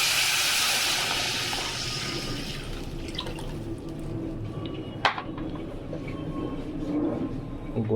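Water poured into a hot pan of fried rui fish sends up a loud, bursting hiss that gradually fades to a gentler bubbling sizzle, with a single sharp clink midway.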